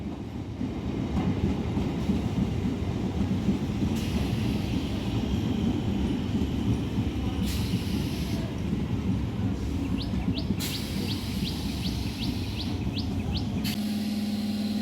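A Bandel–Katwa local train pulls into a station platform with a steady, loud rolling rumble and rail noise, while birds chirp faintly in the background and no one speaks.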